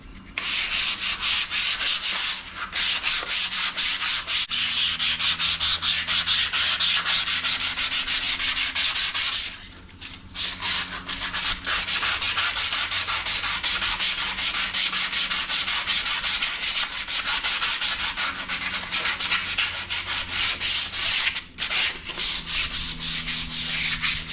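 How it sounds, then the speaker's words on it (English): Steady power sanding on the steel cooktop of a Blackstone flat top griddle, a loud continuous abrasive rubbing that runs almost without pause, with two brief drops in level where the sander lifts off. "I'm just gonna sand it."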